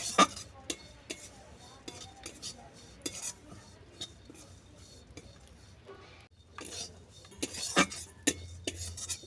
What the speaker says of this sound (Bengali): ওটসটা আমি 2-3 মিনিট ধরে ভেজে নেব